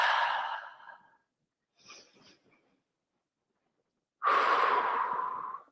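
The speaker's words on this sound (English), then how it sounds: "Let's take 2 more breaths here." Slow, deep breathing held during a shoulder stretch, a long exhale, a faint short inhale, then another strong breath out, close and clear against silence.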